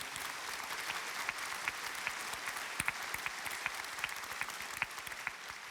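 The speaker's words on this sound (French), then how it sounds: "Témoignage présent, témoignage inspirant qu'on peut applaudir." An audience at a disability-family round table during the Unapei congress claps steadily and densely for several seconds, sounding somewhat distant and even, with no talking.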